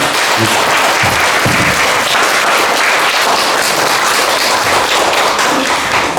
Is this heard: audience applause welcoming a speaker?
yes